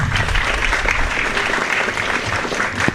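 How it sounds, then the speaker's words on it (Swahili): Steady audience applause for a woman government official at a Kenyan youth dialogue event in Mombasa, many hands clapping loudly and continuously with no break throughout. "Madam Nadia. Kwa hivyo tumpigie makofi."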